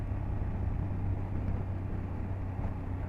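A BMW F800GS motorcycle rolls along slowly on new tires, its engine a low, steady, fairly quiet rumble with no voices.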